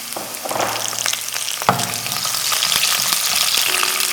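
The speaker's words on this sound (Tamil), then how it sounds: "கடுகு பொரிஞ்சதும் நம்ம பொடிப்பொடியாக கட் பண்ணி வச்சுருக்கிற இஞ்சி பூண்டு சேர்த்துக்கலாம் வரமிளகாய் சேர்த்துக்கலாம் பச்சை மிளகாய் சேர்த்துக்கலாம்" Ginger, garlic, dried red chillies and green chillies frying in hot oil with popped mustard seeds for a South Indian breakfast dish, a steady close, loud sizzle with a sharp clatter of stirring partway through.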